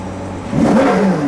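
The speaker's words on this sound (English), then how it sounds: "So right up here is your rev limiter." A 2021 Ferrari 812 GTS with a 6.5-liter V12 revs sharply, its pitch climbing quickly in one short, loud, close burst.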